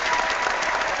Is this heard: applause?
yes